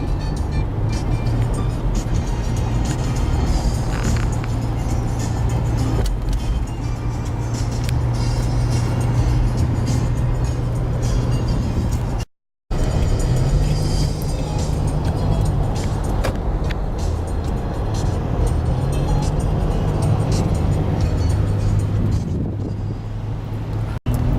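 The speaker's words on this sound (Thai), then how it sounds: "ขณะนี้ผมกำลังขับมุ่งหน้าเข้าสู่กรุงเทพนะครับ" A car drives along a multi-lane city road heading toward Bangkok, giving a steady, loud engine and road rumble with wind noise throughout. It cuts out briefly partway through.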